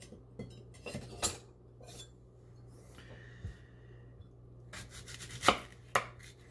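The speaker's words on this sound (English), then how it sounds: "So we dice them up, chop them up a little bit here." A knife chopping pear on a cutting board, a few irregular sharp knocks with pauses between them, close and fairly quiet, with light clinks of utensils.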